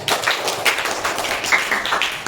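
Students in a classroom clap for a classmate in a short burst of quick, close hand claps with a few sharper taps, over in about two seconds with no talking.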